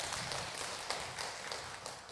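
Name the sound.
congregation applause in church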